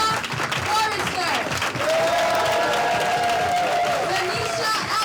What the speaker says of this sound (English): clap as hard as you can to the point where your hands hurt so much